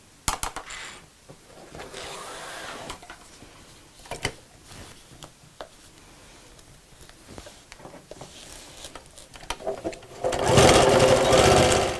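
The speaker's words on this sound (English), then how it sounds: "And then we'll sew down each side." A sewing machine stitches a pocket down onto backing fabric for a wall hanging organiser, starting with scattered clicks and taps and ending in a short, fast, steady burst of close stitching.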